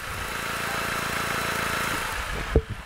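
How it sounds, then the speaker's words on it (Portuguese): A 2007/2008 Ford Fiesta 1.0 engine idles with a smooth, even low thrum heard up close, ending in a short sharp knock near the finish. "O motor trabalha redondo."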